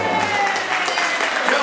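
A concert audience claps steadily for the evening's artistic director, a dense, continuous wash of hands close up with no pause.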